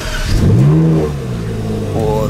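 Ferrari 458 Speciale V8 cold start, a starter churn followed by a sharp rising flare of revs that settles into a loud, raspy idle close by.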